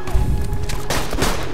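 A grenade blast in the first-person shooter Borderlands 2 rumbles and crackles loudly with heavy low booms and scattered gunfire-like bursts over a short, dense stretch.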